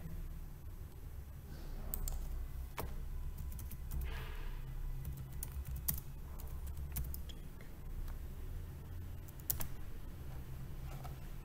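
Rapid, irregular clicks of typing on a computer keyboard, run through a steady low hum and fairly quiet throughout.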